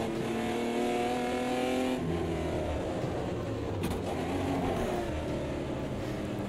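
A Stock 99 race car in Automobilista 2 on the Laguna Seca circuit, its engine droning loud and steady with harmonic revs that shift around the two-second mark as it accelerates and changes gear, alone without talk.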